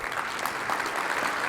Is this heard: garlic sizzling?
no